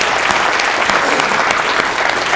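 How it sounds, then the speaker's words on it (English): Audience applause fills a room after a short presentation, a steady dense clapping held at full strength without a break and heard alone. "Give them a round of applause"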